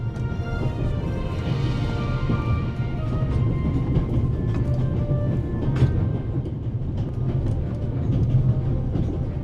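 A video game train rolls along steadily with a low rumbling drone and faint rhythmic clatter, continuous and moderately loud throughout.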